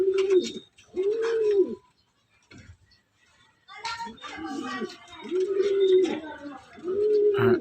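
A pigeon visiting a loft coos repeatedly in close, throaty phrases while being handled and fed, with soft rustling and a person speaking quietly between the coos.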